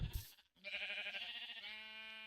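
A sheep in the video game Minecraft bleats once in a long, wavering cry after a brief scuffing noise, quiet and alone.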